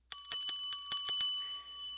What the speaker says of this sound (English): There's my fun bell there. My real bell in my recording studio.